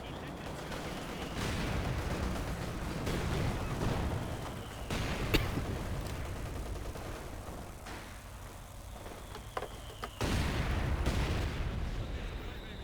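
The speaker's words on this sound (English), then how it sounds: "Again, some more mortars up in here." Mortar fire in the World War II strategy game Company of Heroes 2 thuds repeatedly amid crackling gunfire, a steady barrage of booms with a heavier burst near the end and voices mixed in.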